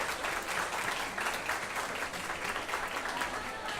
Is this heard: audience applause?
yes